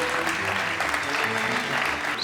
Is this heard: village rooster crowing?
no